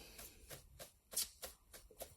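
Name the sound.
shuffling a deck of cards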